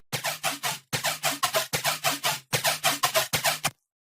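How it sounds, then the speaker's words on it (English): Unprocessed synth bass playing a choppy, bright pattern of short repeated stabs in quick rhythmic bursts with brief gaps, loud and dry, ending abruptly into silence. "The basses are super lame without any post-processing."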